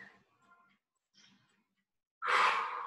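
A strong, breathy exhale during a Pilates session, following quieter faint breathing.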